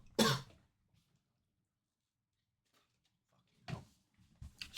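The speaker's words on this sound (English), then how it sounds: "Still got a cough." Two short coughs, one at the start and another near the end, separated by a long near-silent pause.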